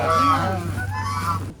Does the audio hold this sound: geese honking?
yes